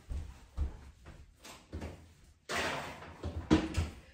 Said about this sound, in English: you can pop this in the oven